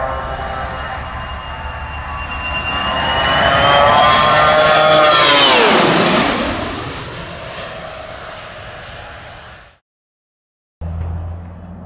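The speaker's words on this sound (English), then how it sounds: "these aircraft are essentially civilian airliners, in the hands of an experienced military crew, they can still put on an impressive air show display" A Boeing 757 airliner flying a military air show display roars past, its jet engines swelling to a loud peak as it goes overhead and then fading away with a falling pitch, with no talking.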